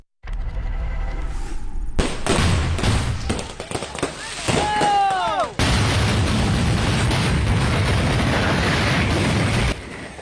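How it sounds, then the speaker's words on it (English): A chaotic barrage of fireworks cracking and booming in rapid succession as stacks piled next to a rental truck ignite accidentally, with whistling streaks and loud pops, dense and close. "Those are the sights and sounds of stacks of fireworks that were piled next to a rental truck, igniting and exploding"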